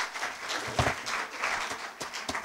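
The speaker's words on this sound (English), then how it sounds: "A round of applause for them, please," Audience at a Sierra Leone mayoral debate clapping in a thin, fairly faint round of applause with a few sharper claps standing out, fading in and out.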